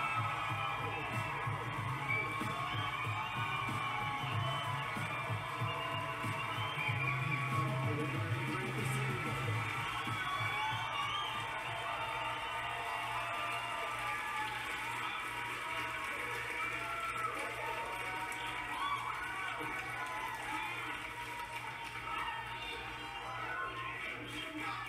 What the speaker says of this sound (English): the crowd gives a massive standing ovation to Bernie Sanders that is just totally noticeable